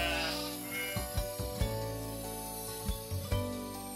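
Lambs bleat on a hillside in a handful of short wavering cries spaced over a few seconds, set against a dense sustained musical background.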